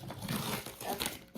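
Packaging from a Goodwill Blue Box of handbags crinkles and rustles loudly and close up for a brief moment as the box is opened.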